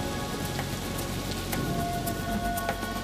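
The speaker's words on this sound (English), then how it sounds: "A torrential downpour failed to dampen the club's firepower" Torrential rain pours down at a 1996 Seattle Seahawks football game in Florida against the Dolphins, a dense, even, loud hiss of downpour with no talk over it.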